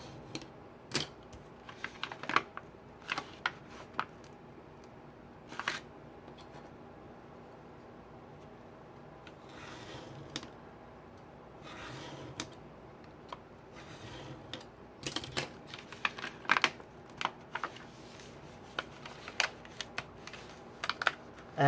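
A craft knife with a dull blade is drawn several times through paper card, making faint, scattered scratchy clicks and scrapes over a quiet room hum.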